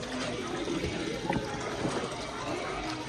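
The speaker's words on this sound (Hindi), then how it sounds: "इधर से जो है ना पानी निकाला जा रहा है परोठों का" Water draining off from paratha dough in an outdoor village kitchen, a steady wash of trickling and splashing with occasional knocks throughout.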